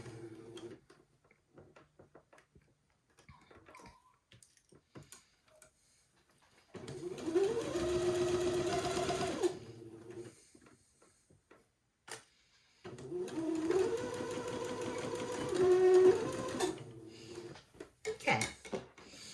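Sewing machine stitching a seam on an heirloom bubble romper for a one-year-old boy, running in two steady bursts of several seconds each with quiet gaps between, close and fairly loud.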